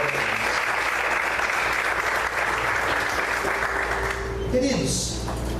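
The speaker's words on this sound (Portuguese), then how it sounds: "Você pode aplaudir o Senhor pela vida" A church congregation applauds at an evangelical service in steady, dense, continuous clapping that fills the space throughout, with a brief voice rising near the end.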